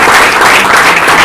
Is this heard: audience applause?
yes